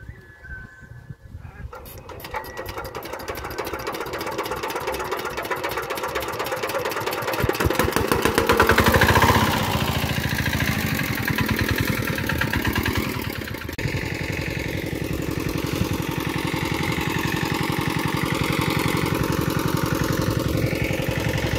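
A CD Z175 engine, a small single-cylinder farm engine restarted after a long idle spell, chugs steadily at low revs with a rapid, even knocking beat, loud and close, getting louder partway through before settling.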